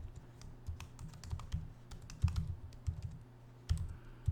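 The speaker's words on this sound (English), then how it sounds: "So I'm just going to type that one in." A command typed into a terminal on a Mac keyboard: light, uneven key clicks in short flurries with a few heavier taps, close and quiet over a low background hum, no talking.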